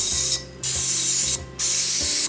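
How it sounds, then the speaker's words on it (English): Cooking spray hisses out in three short bursts onto a muffin tin, with brief pauses between them, close and fairly loud. "I'm gonna spray the muffin tin real quick"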